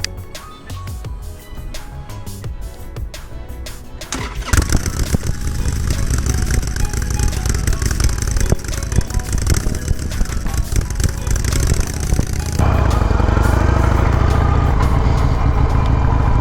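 A 2020 Harley-Davidson Roadster motorcycle engine cranks with clicking starter noise, catches around the four-second mark, and settles into a loud, steady, rumbling idle that thickens near the end.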